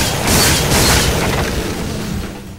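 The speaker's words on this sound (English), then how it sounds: "That's what grenades sound like?" A grenade detonates in the video game Eat Lead: a loud, broad boom at the start rolls into a long rumbling tail that slowly fades.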